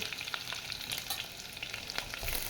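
Chopped onions with curry leaves frying in oil for a mushroom theeyal, a soft continuous sizzle with scattered crackles and occasional stirring scrapes, fairly quiet and close.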